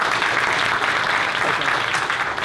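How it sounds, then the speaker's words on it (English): Steady audience applause fills the room at a talk or seminar, dense and continuous clapping close to the microphone with a faint murmur of voices beneath. "So let's give a round of applause for my friend."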